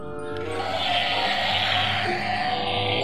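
A battery-powered toy elephant switched on, giving a sustained buzzy electronic bleating tone that holds steadily for about three seconds without pause.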